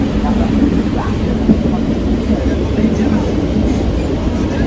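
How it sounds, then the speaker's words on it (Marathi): A crowded Mumbai local train running with passengers standing aboard, a loud, continuous rumble and rattle of the carriages all around, with talk mixed in. "ट्रेनमध्ये आम्हाला जागा नाही असा आम्ही उभे राहून चाललेलं आहे"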